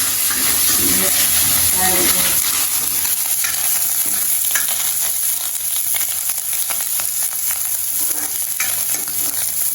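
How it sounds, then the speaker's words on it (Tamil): Snake beans sautéing in oil with green chillies and curry leaves, giving a loud, continuous close-up sizzle and hiss broken by scraping stir strokes, with a voice briefly heard over the frying. "பச்சை மிளகாய் கருவேப்பிலை எல்லாம் போட்டு நல்லா வதங்கட்டும்"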